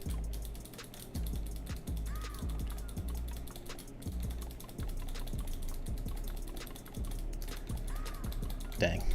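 Someone types on a mechanical keyboard, a quick irregular stream of sharp clacky keystrokes close to the mic, with a soft hum of room noise beneath.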